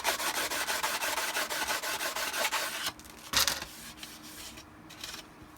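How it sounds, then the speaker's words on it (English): Steady rhythmic rasping strokes of hand sanding on a Shadow Trooper armor piece, fast and even, then a pause with a single louder scrape. "Just give it a quick sanding."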